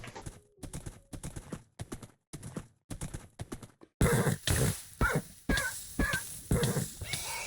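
Minecraft horse hooves clip-clop in quick rhythmic bursts while a player rides through a desert, with a clearer, louder run of hoofbeats in the second half.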